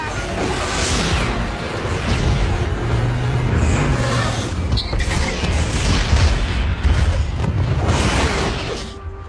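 A fighter jet slams into a mountainside in an action movie, a dense roaring explosion with deep rumbling booms and whooshing debris that stays loud and sustained throughout, with a brief voice amid the din.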